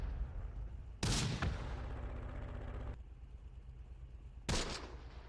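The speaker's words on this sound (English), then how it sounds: "Here comes the off-map artillery." Off-map artillery lands in the war game Close Combat, two heavy booming blasts a few seconds apart, the first trailing a long rumbling decay over a low battlefield hum.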